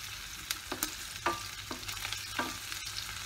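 Onion, chopped ginger and green chilli frying in a pan for vegetable bajra millet pulao, stirred with several distinct scraping strokes over a soft low sizzle, close and quiet, with no talking.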